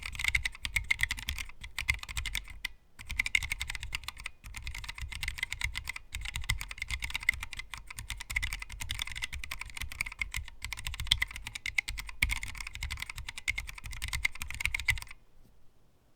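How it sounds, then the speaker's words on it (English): Steady, rapid clicking of typing on a tiny 16x16 mechanical keyboard with low-profile Choc switches, close and alone, with a brief pause near the start and silence at the end. "we're gonna do a typing test now"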